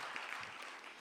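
A brief burst of audience applause welcomes a poet at an Independence Day poetry gathering, a close, dense patter of clapping lasting about a second.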